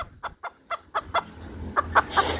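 Newly acquired caged chickens give a series of short, close clucks, about nine quick calls in an uneven rhythm over a low background rumble.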